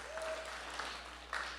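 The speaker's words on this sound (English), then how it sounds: "Give them a round of applause." Short burst of audience applause opening the fourth super{summit} startup event in San Francisco, a fairly faint, steady patter of clapping from the room with a couple of louder swells near the end.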